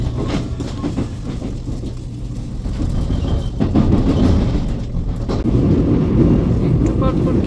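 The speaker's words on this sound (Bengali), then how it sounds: "আমাদের ট্রেনটাও ছেড়ে দিল" A metro train in South Korea pulls away, heard from inside the carriage as a loud rising low rumble with rattling and wind noise that swells over several seconds.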